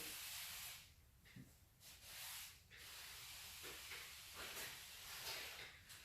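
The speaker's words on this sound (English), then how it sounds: "Spray, I always spray out the corners here first, and then I'll wet the glass" Repeated bursts of spray hiss from a trigger bottle of slip solution onto a Toyota 4Runner door window glass, several quick squirts in a row, steady and close.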